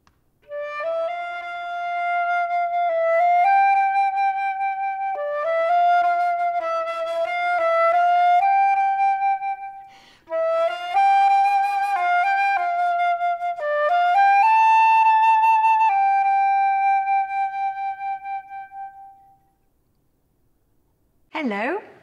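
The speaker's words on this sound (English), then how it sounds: "I play the flute, which sounds like this." A flute plays sustained melodic phrases with smooth, bright tones, pausing briefly midway, and a short voice sound at the very end.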